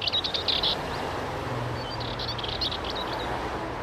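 An urban songbird sings at a small patch of nesting habitat, with bright chirping phrases near the start and again midway over a steady wash of traffic noise.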